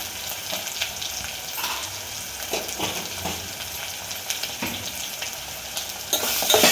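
Onions frying in a pan with salt and being stirred for a chicken tamarind curry, a steady close sizzle with scraping stir strokes throughout.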